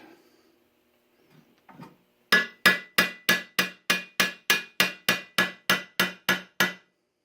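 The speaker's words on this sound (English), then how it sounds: "After hammering out this dent on the other side" Steady, evenly spaced hammer blows ring out on metal, hammering out a dent in a Winchester 1887 shotgun barrel, about fourteen sharp clanging strikes in a row after a few quiet handling sounds.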